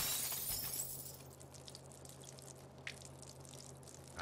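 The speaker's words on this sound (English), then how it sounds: "I hope those weren't the toxic chemicals I was just talking about that broke on the floor just now" Toxic chemical containers shatter on the floor in the South Park: The Fractured But Whole game, with a loud burst of breaking glass at the start that fades into faint trickling and dripping.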